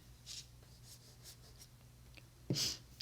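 Paper overhang being trimmed off a handmade card, a few faint scratchy cutting strokes close by, ending in a sharper, louder snip near the end, with no talk.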